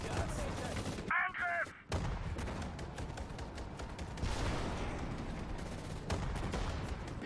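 Battle gunfire in the WWII strategy game Sudden Strike 4, a dense continuous crackle of rifle and machine-gun shots with booming impacts, loud throughout with a brief lull.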